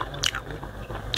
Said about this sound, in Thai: บักม่วงกรอบ